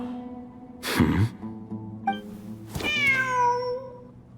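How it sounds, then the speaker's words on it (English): A cat in the video game Genshin Impact meows twice, a short cry near the start and a longer rising-and-falling meow toward the end, close and clear with no talk. "Wait, there it is! The cat!"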